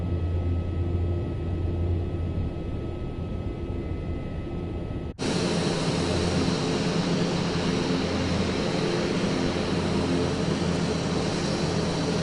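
A steady broadband roar of an airliner's engines in Microsoft Flight Simulator abruptly jumps louder midway through, as thrust builds for takeoff, and then holds that constant high-power hum with no talk.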